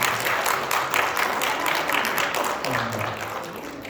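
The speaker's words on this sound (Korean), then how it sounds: "우리 박수로 좀 보내드리겠습니다" A church congregation applauds at a Korean church's Sunday worship service in Colorado Springs, welcoming a visiting elder. The clapping is steady and moderate for about four seconds, with some voices murmuring underneath.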